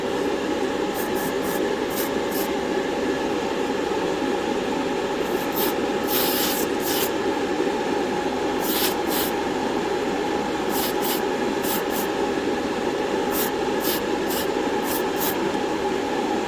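Spray can applying a second coat of paint to the rear wing of a Tamiya Mazda RX-7 R1 model kit, a steady loud hiss with repeated short sharp sputters and bursts layered on top.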